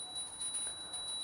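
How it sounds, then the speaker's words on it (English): A small hand bell rings steadily during a Hindu ritual water offering, its bright high tone sustained and fairly faint throughout, with no talk. "please ring the bell as you do so."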